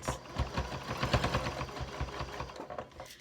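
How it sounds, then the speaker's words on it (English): A sewing machine stitches a small square to attach fabric for a wrist band pin cushion, a steady rapid mechanical chatter heard up close that slows and stops near the end, with no talking. "I'm just going to sew a little square on there just to attach it"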